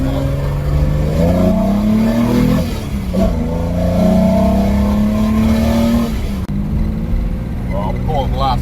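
A 265 Hemi engine runs on a dyno, revving up and easing back in two long pulls with its rockers rattling. The engine is loud and close and fills the whole stretch.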